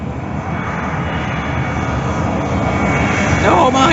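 A loud, steady aircraft roar from a plane flying low overhead near a beach by an airport on Rhodes or Santorini fills the whole stretch, with wind noise and a brief voice near the end.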